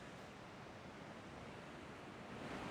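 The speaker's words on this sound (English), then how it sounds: "sound of the ocean" Steady broadband wash of Atlantic Ocean surf off Donegal, Ireland, a constant rushing roar that swells slightly toward the end, with no voices.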